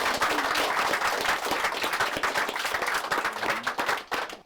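An audience at the reboot of the Harwell Dekatron computer breaks into sustained applause, dense clapping from many hands that stays strong before thinning out at the end.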